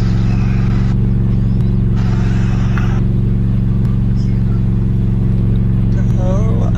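Steady low car engine drone in Roblox, a Hellcat idling and revving in a neighborhood setting, running continuously under brief bursts of other game sounds, with people talking over it.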